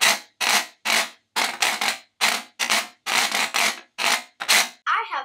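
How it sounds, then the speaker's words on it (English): A rapid series of dry, raspy scraping bursts in quick succession, like a washboard being rattled, loud and close, with short gaps between strokes. "I have the washboard. It sounds like a rattle."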